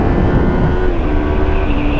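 A 2017 Yamaha MT-03 roadster motorcycle accelerating with the engine revving high, a loud, sustained buzzing drone with steady rising tone under strong wind rush, heard from on the bike.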